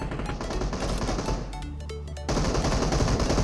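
Heavy automatic gunfire in the PUBG shooter on the Livik map, loud sustained bursts filling the clip with a brief pause midway before the firing resumes even louder.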